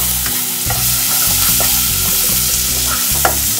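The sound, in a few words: food frying in pan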